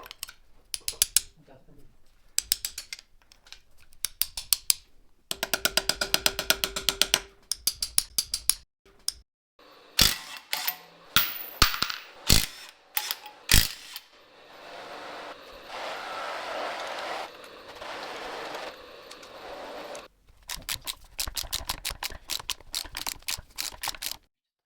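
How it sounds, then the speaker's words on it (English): Ratchet fitted with an 11mm socket working on the exhaust manifold nuts of a BMW 2002 M10B20 engine, giving bursts of quick clicking separated by pauses, with grinding scrapes and a few sharp knocks mixed in. "instead of a 12mm socket, I can use 11mm socket."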